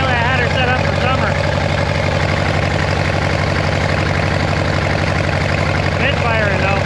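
A vintage Case tractor engine runs steadily at a low, throbbing idle, loud and close, its uneven beat betraying a misfiring cylinder, with no talk over it.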